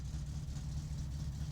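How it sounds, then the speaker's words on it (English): A car engine in the video game My Summer Car idles steadily while warming up, a continuous low rumble at even volume with no voices. "While the car warms up, I'm going to go sit away from the engine noise."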